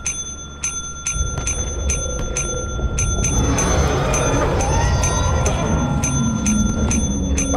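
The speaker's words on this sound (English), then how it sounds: "And then ring the bell." A ship's bell in the video game Lethal Company rung over and over in a quick, regular series of bright metallic dings, loud and close over a dense rumbling background that fills in after the first second.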